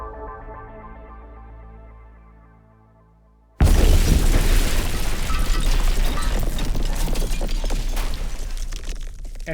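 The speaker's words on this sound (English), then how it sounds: "an explosion ripped through the city of Pasadena" A low, tonal hum fades quietly, then a sudden, very loud explosion bursts in and gives way to a sustained, crackling roar and rumble that continues to the end.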